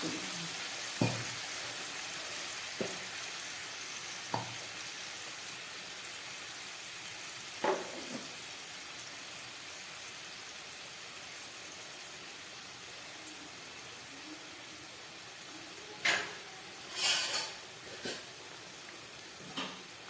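Pointed gourd (potol) curry with a little added water cooks quietly in a pan, a faint steady simmering hiss broken by scattered soft clinks and stirring knocks.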